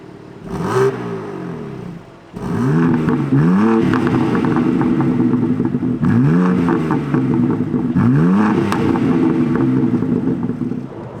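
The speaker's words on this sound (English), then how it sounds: "the stock exhaust system on this car, a 2023 car which obviously has very strict EPA guidelines, actually sounds pretty good" A 2023 BMW G87 M2 on its stock exhaust, driven hard: repeated rising engine revs with gear changes, loud and close, with a rough, burbling exhaust note and no talk.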